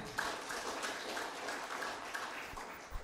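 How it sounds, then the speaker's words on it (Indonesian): An audience applauds at the launch of Universitas Putra Bangsa, a university in Kebumen, producing a steady wash of clapping that stays even for about three seconds at moderate distance with no one speaking. "tepuk tangan semuanya."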